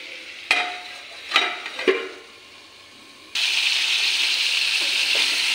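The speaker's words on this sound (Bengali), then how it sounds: "আমার ঝিঙে আর মিষ্টি কুমড়টা কি সুন্দর ভাজা ভাজা হয়ে গেছে" Sliced ridge gourd and pumpkin cook in a pan with tempered spices. A few scraping stirs give way to a steady, fairly loud sizzle.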